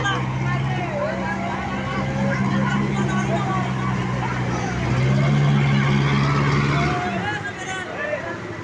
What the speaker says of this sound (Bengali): এখানে এই গাড়িটা দিয়ে মূলত তারা নৌকাগুলো উঠাবে।